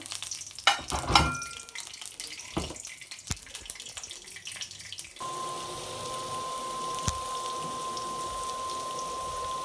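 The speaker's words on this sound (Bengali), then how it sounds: "এখন দিয়ে দিলাম তেল, দিয়ে দিলাম একটা তেজপাতা, এই যে দিয়ে দিলাম গোটা জিরা" A bay leaf and whole cumin seeds crackle in hot oil in a pan, with sharp spattering pops at first. The sound then settles into a steady, softer sizzle.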